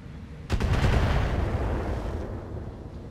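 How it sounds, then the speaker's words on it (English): Missiles strike and explode in the BattleTech mech combat game: a sharp crack is followed by a heavy, rumbling blast that rolls on loudly and then slowly fades. "Oh, some more missiles coming in."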